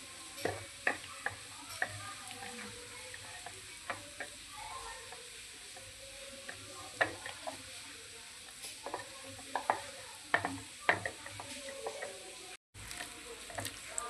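Marinated chicken pieces are mixed by hand in a bowl, making a run of soft wet squelches and light clicking taps that recur irregularly against a quiet background, with one brief dropout near the end.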